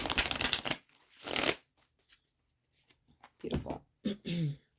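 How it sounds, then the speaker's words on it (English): Tarot cards are shuffled by hand in quick riffling bursts, two dense stretches up front followed by softer, scattered card sounds, and a voice speaks briefly near the end. "Let's give it one more shuffle."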